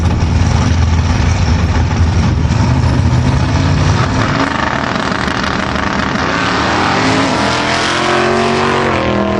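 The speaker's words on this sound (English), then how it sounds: "Andy Broadfoot, 1971 Chevy Z28 Camaro in the left-hand lane" A 1971 Chevy Z28 Camaro and a blown Oldsmobile 442 roar together at a drag strip, loud and continuous, their pitch climbing as they accelerate away down the lanes.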